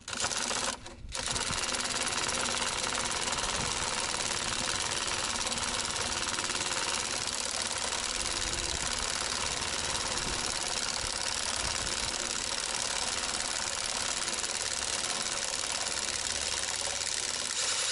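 A cordless pulse driver with 30 Nm maximum torque runs loud and continuous with a rapid mechanical pulsing rattle, briefly interrupted near the start, then hammering on without pause.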